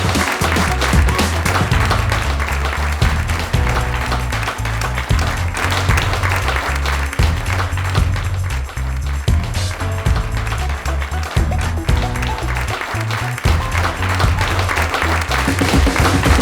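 A wedding crowd applauds loudly and without pause as the bride's party is welcomed, dense clapping that fills the whole stretch, with music playing underneath.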